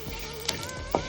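Mustard seeds and urad dal sizzle in a hot pan while a tempering is made for brown chana dal sundal: a steady, close frying hiss with a couple of sharp pops and stirring sounds.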